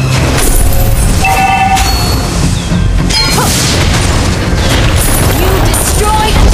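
A turret being destroyed in the Mobile Legends video game: a loud, continuous mix of booming impacts, crashes and whooshing effects with game announcer voices over it.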